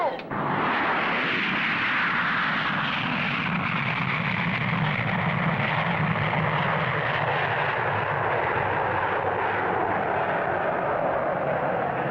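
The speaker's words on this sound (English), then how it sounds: "what a blast off" Rocket blasting off after a countdown, a sudden ignition giving way to a loud, sustained roaring rumble that holds steady for about twelve seconds, close and engulfing, with no speech over it.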